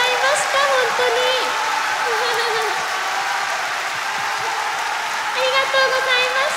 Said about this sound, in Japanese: メンバーとダンサーの皆さんに大きな拍手